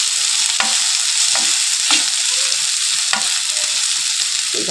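Bilimbi ginger curry sizzles steadily in a pan while a spoon stirs it, scraping taps recurring every second or so over the constant frying hiss, close and without speech.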